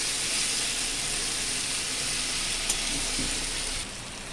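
A steady, dense sizzle of pointed gourd frying in a pan over medium heat, constant and close, with a faint clink partway through and no talking.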